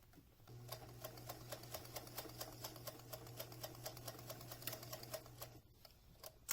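A sewing machine stitches across elastic on a flute instrument mask, running steadily with a rapid, even mechanical clatter and a low motor hum, close by, then stopping near the end.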